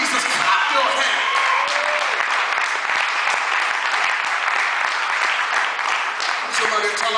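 A church congregation claps hands together in a steady, dense wash of applause, with voices and shouts mixed in over the clapping throughout.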